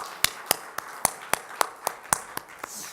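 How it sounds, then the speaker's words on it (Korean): Slow, evenly spaced claps from a church congregation in Korea, about a dozen sharp strikes at a steady beat, fairly faint in a quiet hall. "하나님께 영광의 박수 한번 다시 올려드릴까요?"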